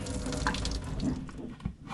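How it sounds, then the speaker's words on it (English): Boiled water is poured off a pot over a propane stove aboard a small sailboat: a brief, close splashing stream with a slight gurgle, fairly quiet and without talk. "now we're gonna pour off the water"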